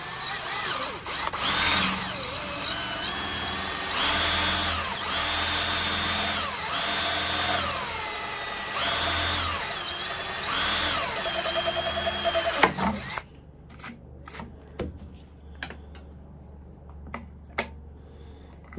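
A power drill bores a 16 mm hole through a sheet of recycled plastic, a loud, close, wavering whine for about thirteen seconds that rises and dips under load, then stops, followed by faint clicks and handling noises.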